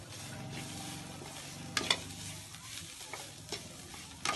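Bharwa bhindi masala being stirred and mixed in a frying pan, a steady soft sizzle with scraping spoon strokes and a few sharper clinks, close and fairly quiet with no talking.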